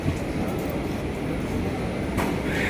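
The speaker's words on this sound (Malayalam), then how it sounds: "ഞങ്ങൾക്ക് പോകാനുള്ള ട്രെയിൻ എത്തിക്കഴിഞ്ഞു" A train pulls into a station with a loud, steady mechanical rumble and rolling noise close by, broken by a brief brighter hiss near the end.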